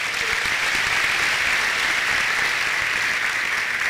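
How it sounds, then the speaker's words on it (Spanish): A church congregation claps in steady, dense applause throughout, loud and continuous without any speech over it. "Denle un aplauso al Señor."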